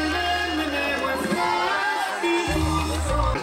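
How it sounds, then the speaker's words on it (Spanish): A loud crowd at a jaripeo rodeo and dance in San Luis Potosí, Mexico, cheers and shouts together, with whoops and raised voices over a dense, continuous roar; festive and close. "Vamos dándole fuerte el aplauso."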